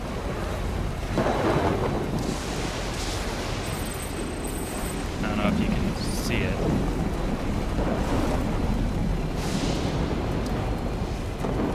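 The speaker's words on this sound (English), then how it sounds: "That's what that giant storm is." A giant thunderstorm in a video game rumbles as a steady, broad roar of wind and rain, with low thunder swelling at moments, while someone speaks briefly over it.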